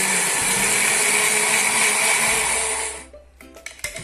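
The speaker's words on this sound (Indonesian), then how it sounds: "Kita blender daun pandan dan suji hingga halus." An electric blender whirs loudly and steadily as it purees pandan and suji leaves with water, then switches off near the end, leaving a few clinks and knocks.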